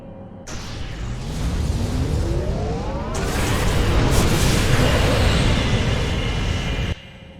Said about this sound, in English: If I overload those conduits, I'm sure it'll make a big explosion.